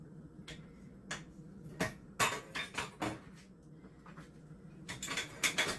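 Spoon scraping and clinking against a bowl while muffin batter is scooped, a string of sharp, irregular taps and knocks at close range over a quiet kitchen background.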